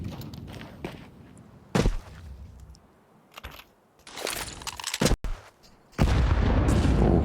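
Counter-Strike match between MOUZ and paiN at IEM Rio 2024, with loud grenade blasts and bursts of gunfire, several sharp booming hits separated by quieter gaps and footsteps, ending in a sustained heavy rumble.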